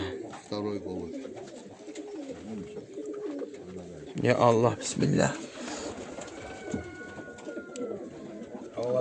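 A male magpie-patterned racing pigeon with a ring on its leg gives soft, repeated coos up close. People talk over and between the coos.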